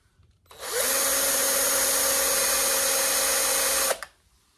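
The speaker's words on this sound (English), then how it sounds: "I wonder if this drill bit's not sharp enough." A power drill bores a hole through a thick board, its motor spinning up abruptly and holding a loud, steady whine for about three seconds before cutting off, close and alone.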